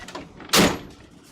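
A single quick sliding thump of a drawer or door being pulled, one sharp burst rising above quiet room noise and fading.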